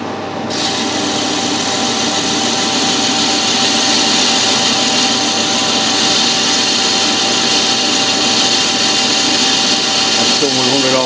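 A lathe parts off a Stuart engine governor bearing carrier, making a loud, continuous close-up grinding and cutting hiss with a faint whine under it, running steadily throughout.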